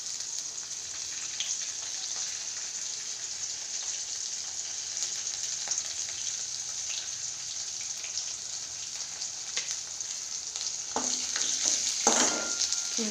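Garlic frying in hot oil until reddish, a continuous bright sizzle with crackling spits, growing busier and louder near the end, no talking.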